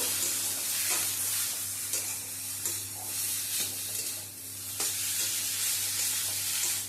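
Fish chop mixture made from lote fish, with chopped coriander, stirred in a pan, giving a continuous close sizzle and hiss broken by soft periodic scrapes of the spatula, with no talk.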